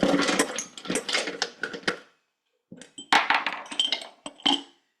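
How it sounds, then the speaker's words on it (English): Ice cubes clinking and tumbling into a glass while a mint-and-lime mojito is built, a close burst of clatter, a brief pause, then a second rattling pour. "now we're going to add ice"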